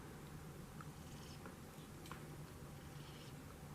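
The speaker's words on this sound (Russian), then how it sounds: "Мурлычет." A house cat purrs steadily and softly at close range in a sunlit apartment, a low continuous rumble with a faint background hiss and no talking.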